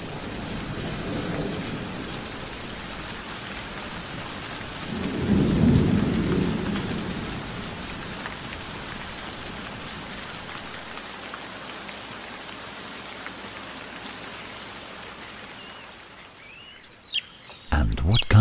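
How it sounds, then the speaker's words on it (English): Steady rain falls through a thunderstorm in the Dehesa woodland, a continuous wash of raindrops with low thunder rumbling early on and again in the middle, fading out near the end with a few brief sharp sounds. "And it'll wake to the revitalizing sound of raindrops."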